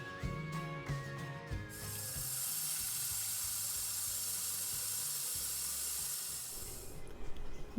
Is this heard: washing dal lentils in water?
yes